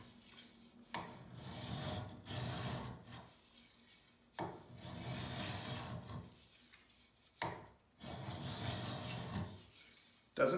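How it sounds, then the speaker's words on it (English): Hand file rasping along the edge of a woodworking card scraper in three long steady strokes separated by short pauses, close and fairly loud, with no talking. "That's the sound of the file smoothing off that edge."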